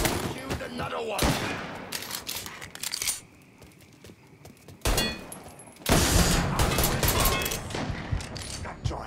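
Gunfire in a shootout in Mafia III Definitive Edition, with dense bursts of loud shots and automatic fire, a brief lull in the middle, then heavy firing again. Voices are mixed in.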